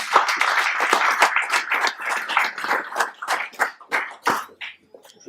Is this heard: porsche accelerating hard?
no